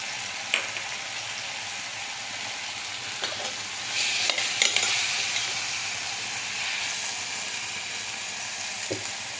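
Tomatoes and soaked chana dal sizzle and fry in a pan, a steady hiss with occasional stirring scrapes and a brief louder burst of crackle midway, close and without talk.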